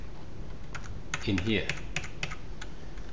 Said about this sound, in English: So you come here and you type in NotePad